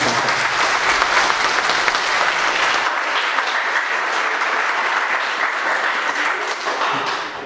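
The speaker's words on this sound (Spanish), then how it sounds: "Le pido un fuerte aplauso para la fundadora de esta casa" An audience at a school anniversary event gives sustained, dense applause for the school's founder, steady and loud throughout with no break.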